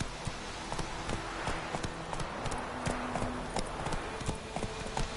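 Hooves of the horse Roach clip-clop in a rapid, steady gallop in Witcher 3, close and continuous, with faint voices in the background.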